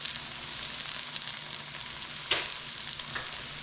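Pork belly and mushrooms fry in a pan with Vindaloo curry, giving a steady, close hiss of sizzling fat with one brief louder crackle, no voices.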